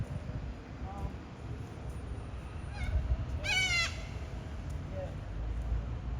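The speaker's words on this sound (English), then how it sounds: "this might be a cockatoo" Harsh, rasping bird squawks sound from a distance, with one louder burst of repeated calls over steady outdoor background noise.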